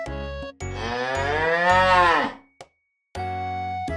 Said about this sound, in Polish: Masz rację. To jest krowa.